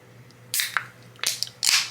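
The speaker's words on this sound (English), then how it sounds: "So we're gonna pop this open." A can of Monaco Cocktail Blue Crush drink being cracked open, heard as a few sharp, close clicks and hissing snaps in quick succession against a quiet background.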